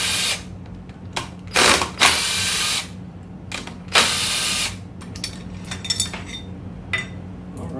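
Ratchet removing bolts from the valve body of a 1975 C20 truck transmission: close bursts of rapid clicking ratcheting, several separate runs with short pauses, then lighter metallic taps and clinks.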